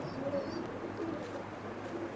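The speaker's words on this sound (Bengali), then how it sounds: "ভাই এক পেয়ার গোল্ডেন কবুতর" A pair of golden pigeons coo softly, a few low murmuring calls over a faint background hum, close but quiet.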